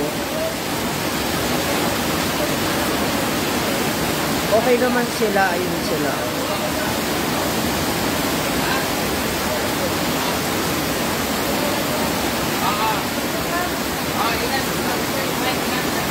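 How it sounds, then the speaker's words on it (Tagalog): A heavy downpour roars steadily and loudly throughout, while a person talks briefly over the rain. "Lakas po ng ulan."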